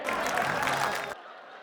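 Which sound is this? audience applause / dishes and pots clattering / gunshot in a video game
audience applause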